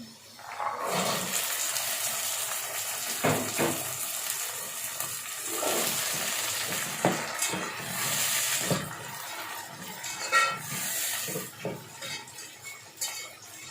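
Green peas fry in hot oil with browned onions in a home kitchen pan, giving a steady, moderate sizzle with occasional louder crackles and faint utensil clinks, and no voices.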